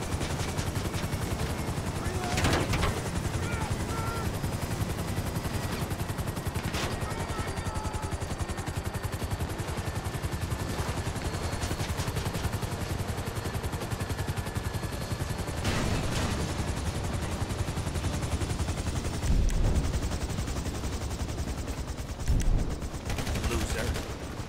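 Machine gun fire rattles almost nonstop in the video game GTA 5, loud and dense, with a helicopter droning underneath and occasional heavier bursts.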